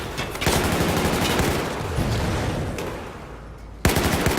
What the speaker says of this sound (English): taking some pot shots at the guy in the stairwell